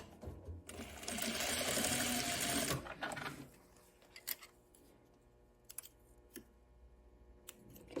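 An industrial sewing machine runs a fast, steady burst of stitching for a couple of seconds, then stops, leaving a few sharp clicks and taps from handling the fabric and thread.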